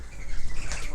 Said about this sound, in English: Oh my God, a bird just came right in.